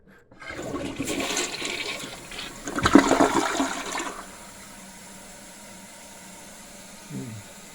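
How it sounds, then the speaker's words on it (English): A toilet is test-flushed after its rim jets have been cleaned; a loud rushing flush surges and swirls for about four seconds, then eases into a quieter trickle of refilling water. "here's a test flush"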